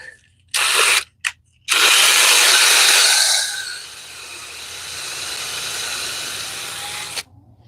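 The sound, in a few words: power drill running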